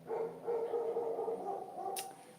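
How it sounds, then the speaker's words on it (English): Dogs bark and yip in a loose run of repeated calls at moderate distance indoors, followed by a brief sharp click near the end. "My dogs are barking."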